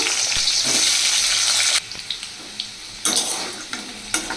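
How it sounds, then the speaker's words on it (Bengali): Cut potatoes sizzle loudly in hot white oil in a wok, the hiss strong for a couple of seconds, then dropping back before surging again, with occasional soft clinks of stirring. "আলুটা আমি ভাজা করে নিচ্ছি"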